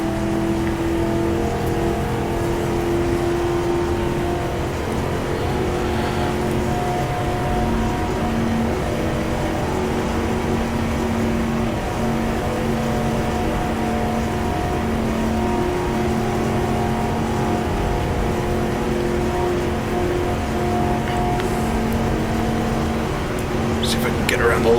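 A race car engine in GTR2 at the 1966 Daytona 24 Hours, Ford versus Ferrari, holding a continuous loud droning whine with subtle pitch shifts throughout, no clear pauses.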